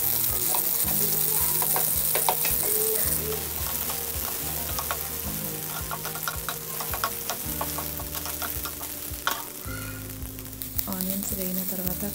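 Onions fry in oil in a pan for peanut chutney, making a continuous close sizzle with occasional stirring scrapes. A low steady hum runs underneath, and there is no talk.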